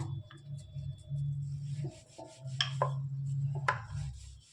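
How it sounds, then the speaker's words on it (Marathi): Sweet corn puri dough rolled out with a rolling pin on an oiled board, making soft rubbing, rumbling strokes with a few light wooden knocks, close up and quiet. "आता आपण लाटूया"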